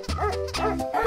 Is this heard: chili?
no